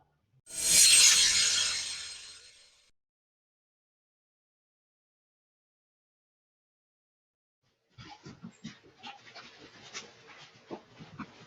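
Dog panting and whimpering, a loud close breathy burst at the start, then a long silence before softer scattered rustles and small whimpering sounds.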